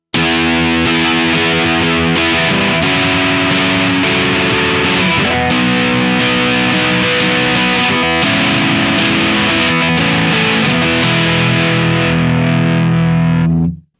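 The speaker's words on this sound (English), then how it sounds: "let you hear a model of a Marshall JCM 900" An Ibanez S561 electric guitar played through a Marshall JCM 900 amp model at medium gain, with distorted chords and notes ringing loud and sustained for about fourteen seconds before cutting off at the end.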